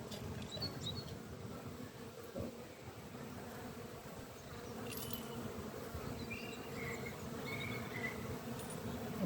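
Honeybees of the Black Betty hive buzz in a steady, dense drone at the hive entrance as foragers come and go, with occasional individual bees whining past closer to the listener.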